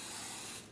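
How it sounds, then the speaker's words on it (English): Cooking spray hisses steadily onto a pancake griddle in one continuous close burst, fading near the end. "You're going to spray the griddle with your cooking spray."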